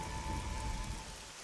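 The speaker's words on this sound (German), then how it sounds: "Duras, geh doch rein, es regnet" Steady rain falls in the fantasy role-playing game Nehrim, a soft, even hiss of drops with a faint tonal hum underneath, quiet and continuous through the short moment.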